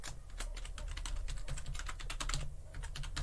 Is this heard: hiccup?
no